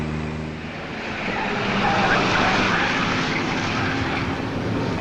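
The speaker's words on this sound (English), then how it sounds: "Keep the engine running." A vehicle engine runs steadily in an outdoor scene from a 1952 film, a continuous broad rumble that swells slightly midway and holds at an even loudness throughout.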